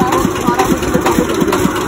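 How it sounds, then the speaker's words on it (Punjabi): A tractor engine idles close by with a loud, steady diesel chug, its low pulses thumping in an even rhythm about four times a second. "ਹਮਾਰੇ ਵਹਾਂ ਤੋਂ ਇਹ ਇੰਜਨ ਕੋ ਬੰਦ ਨਹੀਂ ਕਰਦੇ"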